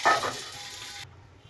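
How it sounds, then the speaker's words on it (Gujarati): Sesame seeds hit hot oil for tempering white dhokla, giving a short, bright sizzle that starts loud and close, then cuts off after about a second. "તેલ ગરમ થઈ ગયું છે, થોડીક રહી તલ થોડાક ઉમેરવાના છે"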